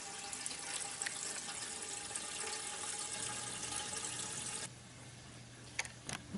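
Liquid pours rapidly through a wide-diameter outlet into a Catalyst conical fermenter, a steady loud rushing gush that cuts off abruptly near the end, leaving a few faint drips and clinks.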